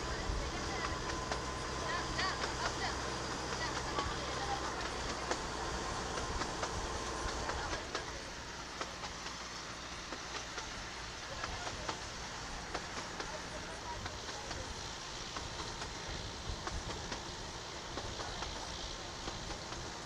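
A toy train rolls through a forest with mango groves, giving a steady rumble and rattle of rail cars that lasts throughout and eases slightly partway. It is moderately loud and continuous, with no clear talk over it.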